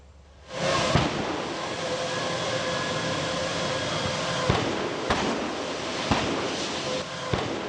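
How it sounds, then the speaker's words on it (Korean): Waste LPG gas cylinders explode in a chain during a factory fire, with a roaring blaze as a steady bed and several sharp, distant blasts and cracks going off at irregular intervals. "커다란 폭발음과 함께 공장에서 시커먼 연기와 불길이 치솟아 오릅니다"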